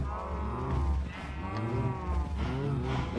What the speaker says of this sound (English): Now, I could have sworn there weren't this many cows when I last played.